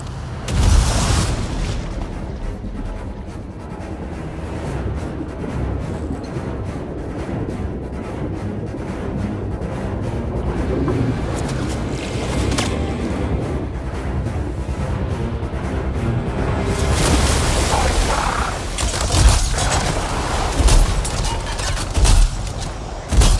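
Sustained gunfire and booming explosions in the video game Anthem roll on in a dense, continuous barrage, with louder bursts and impacts flaring near the start and again toward the end, no voices.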